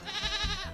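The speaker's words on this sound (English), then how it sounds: "It's a goat." A single close goat bleat, a wavering, quavering cry lasting under a second and heard alone.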